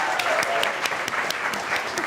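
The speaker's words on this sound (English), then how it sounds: "round of applause for our first judge" Audience applause for a judge being introduced at a monologue competition, a steady dense patter of many hands with a few sharper claps poking through.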